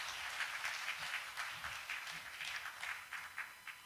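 Applause from attendees at a prayer meeting and seminar on Korean politics and peaceful unification: continuous soft clapping from a crowd, fairly distant and even.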